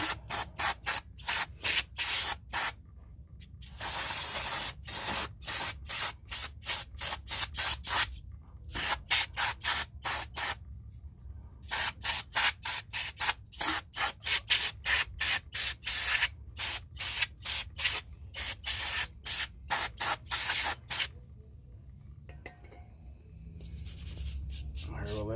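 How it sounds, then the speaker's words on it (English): Brake cleaner blasting from an aerosol can onto the brake parts of a 2005 Toyota Prius, loud close hissing sprays in rapid repeated bursts with brief gaps, ending in a few longer pulls. "now we'll hit it with some brake cleaner"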